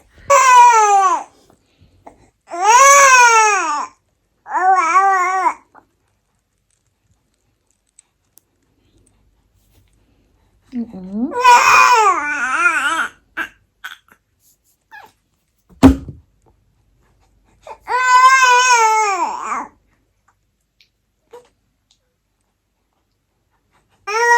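A fussy teething baby girl cries in several separate bursts of wavering, whiny wails, loud and close, with long quiet gaps and a single sharp knock between them.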